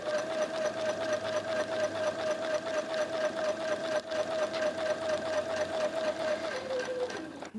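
A sewing machine runs steadily while doing controlled quilting, a close, sustained motor drone with rapid needle rhythm that slows and stops near the end.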